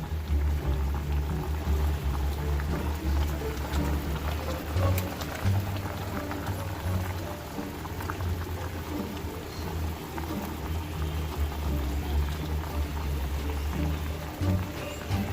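Chopped onion hits a hot pan for curry chicken, setting off a loud, steady, rain-like sizzle that hisses on without pause.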